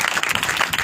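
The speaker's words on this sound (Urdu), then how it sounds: "پھر اب تالی بجائیں خدا کے کلام کے" Members of a church congregation clap their hands together during a worship service, making a dense, steady burst of applause that fills the room at close range.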